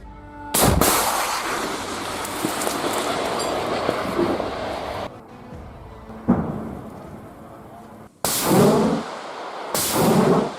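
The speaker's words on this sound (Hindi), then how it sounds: "कैसे इजराइल के एक हेडक्वार्टर को हिजबुल्लाह के अटैक में उड़ा दिया गया।" Heavy explosions and bursts of gunfire from a Hezbollah attack on an Israeli military headquarters, with sharp loud blasts followed by long rumbling roars, a brief lull, then further powerful booms.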